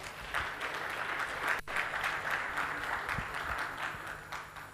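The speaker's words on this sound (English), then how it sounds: "very big round of applause" Sustained applause from a conference audience honouring chartered accountants, steady dense clapping filling the hall for the whole stretch, loud and continuous without letting up.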